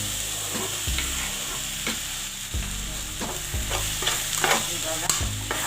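Tomatoes frying in a pan for bhendi (okra) bhaji, a broadband sizzle broken by repeated scraping stirs at a steady rhythm, close and fairly loud with no talking.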